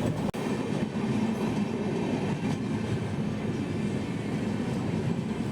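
Pamban Express train running on rails between Pattukottai and Karaikudi, a continuous rumbling roll of wheels with a sharp clack near the start, steady and fairly loud with no voices.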